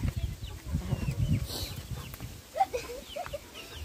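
Chickens in a newly built coop give a few faint, short clucks near the end, following low thumping and shuffling noises.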